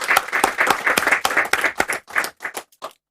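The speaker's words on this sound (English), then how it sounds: "a round of applause." An audience claps in a round of applause, dense and fairly close at first, then thinning into scattered claps before fading out.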